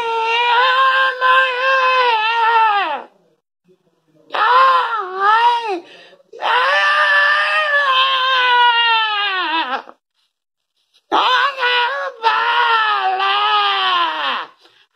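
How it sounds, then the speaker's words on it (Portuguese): A child throwing a tantrum cries and screams in four long, loud wailing bursts separated by short silences, with no speech. "E o menino chorava, chorava, chorava."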